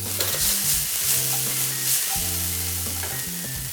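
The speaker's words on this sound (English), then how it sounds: "We're gonna add in 4 cherry tomatoes that I've just gone ahead to cut into half. And we're just gonna be sauteing these." Halved cherry tomatoes sautéing in hot oil give a continuous close sizzle with soft stirring scrapes, steady and without talking.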